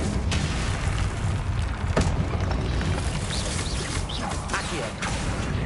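A Confringo spell explosion in a Harry Potter video game: a sharp crashing burst among whooshes and mechanical clatter, with a voice talking over it.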